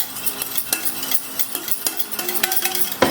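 Curd is beaten into buttermilk in a bowl for ash gourd majjige huli, a steady run of quick clinking whisk strokes against the bowl, close and fairly loud, with no talking.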